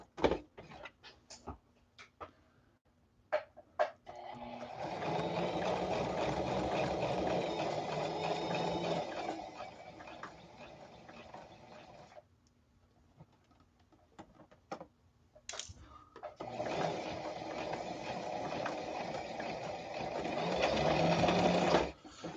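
A sewing machine stitching technician coveralls, two long steady runs of fast mechanical whirring separated by quieter handling clicks and taps, close and clear.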